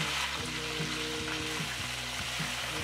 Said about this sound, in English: Please be careful when you're frying like this because it's going to be hot and it will spit a little bit